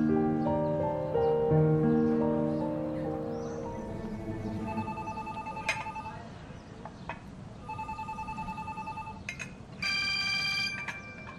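A telephone rings in a home, short repeated electronic ring bursts sounding over background music and voices.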